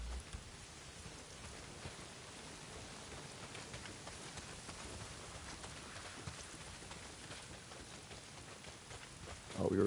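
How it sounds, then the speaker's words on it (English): Steady heavy rain pours down in the video game Days Gone, a continuous dense wash of noise that holds evenly throughout with no talk over it. "Well, not if it's pissing down rain."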